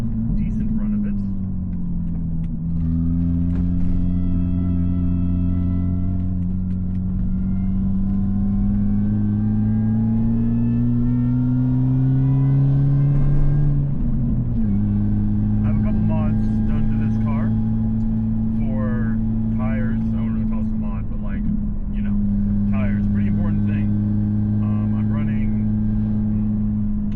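A car pushes through a driving run on the Tail of the Dragon mountain road between Tennessee and North Carolina, its engine droning steadily with rising and falling revs and a shift midway, loud and continuous throughout.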